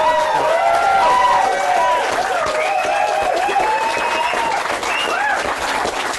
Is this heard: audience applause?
yes